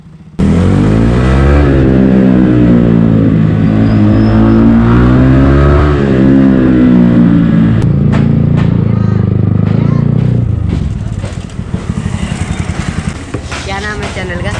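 A motorcycle rides and revs loudly and close by, with rising and falling engine pitch, and it eases off toward the end.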